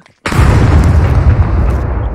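A grenade explosion in the survival video game SCUM: after a short silence one loud sudden boom hits close, then a heavy rumbling roar that lingers and slowly fades.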